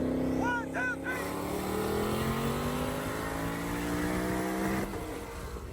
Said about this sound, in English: That manual car is pretty quick. It just misshifted.